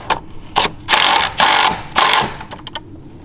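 A hand ratchet tightens bolts on a DV8 Baja-style bumper fitted to a Ford F150. Close, loud clicking comes in short bursts, then in several longer runs of rapid clicks, and ends with a few quick single strokes.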